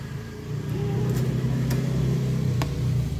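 A Yamaha Mio scooter under repair, fitted with a new battery and switched on using a Toyota Avanza car ignition key: a steady low mechanical hum and idle-like drone with a few faint clicks, close by, no talking.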